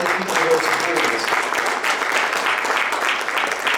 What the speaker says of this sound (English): So let's just have a round of applause for all these people who are supporting us.